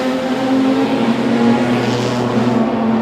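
Production sedans race at Wahgunyah Speedway during an Australian Title heat, a pack of engines roaring steadily and loudly with droning, shifting pitch as they head up the main straight, heard without talk.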